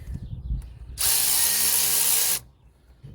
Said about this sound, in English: Take the radiator clamp off real quick.